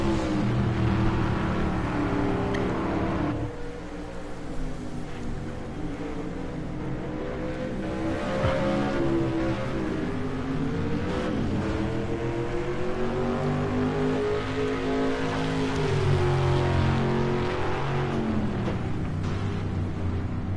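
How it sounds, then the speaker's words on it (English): Classic race cars at Le Mans roar past one after another, their engines revving and rising and falling in pitch in a continuous, loud racing din with no voices. "at a classic car race here at Le Mans"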